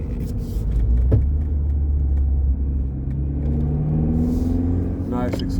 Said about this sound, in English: Nice exhaust note